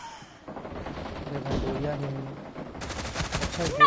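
Rapid gunfire from the mobile shooter BGMI during an 8v8 match, sustained automatic bursts that grow denser and louder toward the end, with a player's voice talking over them.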